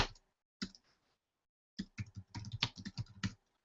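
Bursts of keystrokes on a computer keyboard while entering a card name in a Trello project board: a short burst, a pause, then a quicker run of clicks, close and fairly quiet.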